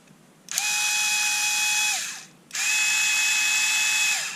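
A Panasonic EY503 electric screwdriver runs after a motor repair in two steady whirring bursts of about one and a half seconds each, separated by a short pause, loud and close with no talk.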